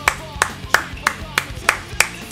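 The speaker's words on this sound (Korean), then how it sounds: "박수 한 번씩 부탁드립니다" Sharp, evenly spaced claps, about eight in a row at a steady rhythm, close and fairly loud, following a match in a Naruto Storm 4 multiplayer league on PS4.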